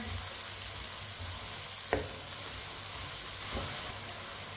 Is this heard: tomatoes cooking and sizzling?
yes